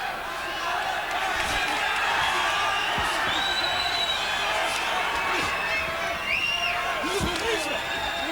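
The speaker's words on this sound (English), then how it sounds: "The crowd is excited." An excited crowd at a 1990 Enshin karate tournament keeps up a steady roar of cheering and shouts throughout, loud and continuous, with scattered whoops and commentary voices talking over it.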